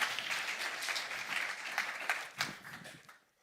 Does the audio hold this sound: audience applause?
yes